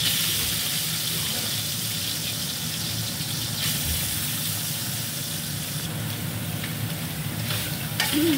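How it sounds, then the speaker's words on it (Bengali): Soybean chunks fry in hot oil with a steady, close sizzle and faint stirring and scraping, continuous throughout with no talking. "এবার সয়াবিনগুলো একটু ভেজে নেবো।"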